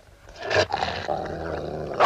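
A dog growls low and continuously in a period drama setting, a rumbling snarl with a sharper rise midway, steady and close throughout.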